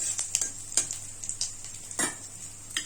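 Cumin, a bay leaf and a dried chili fry in hot oil as a spoon stirs them: a faint steady sizzle under a handful of light, irregular scrapes and taps against the pan.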